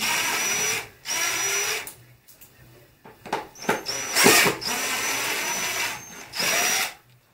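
Impact driver backing out small Phillips screws on a Kawasaki Z650 motorcycle: several loud, sustained whirring bursts with rattling impacts, separated by short pauses and handling noises, close to the listener.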